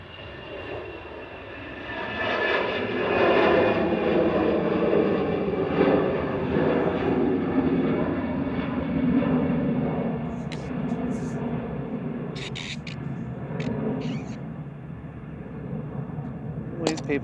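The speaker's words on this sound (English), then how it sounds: "departing first is EasyJet to Malta with flight" An EasyJet airliner departs Manchester Airport for Malta with a loud sustained jet roar that builds over a few seconds and holds, with a few sharp clicks and knocks nearby toward the end.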